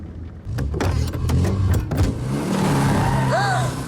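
A car drives with a revving engine that rises and falls, and sharp mechanical clunks sound near the start. It stays loud and close, with voices partly over it and a brief high whine near the end.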